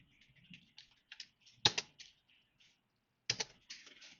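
Fingers tap out an HTML tag on a computer keyboard, giving scattered soft key clicks with two louder, sharper strikes standing out, all close and quiet with gaps between keystrokes.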